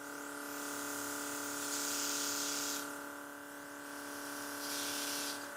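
Dinair airbrush gun hissing steadily as it sprays makeup, with a continuous high whine from the compressor and two louder bursts of spray rising and fading; no one speaks.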